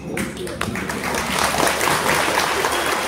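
A standing audience at a roundtable meeting breaks into strong applause, dense clapping that builds and stays loud, with some voices mixed into the crowd noise.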